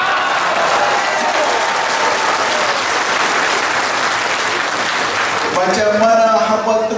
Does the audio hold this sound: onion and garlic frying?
no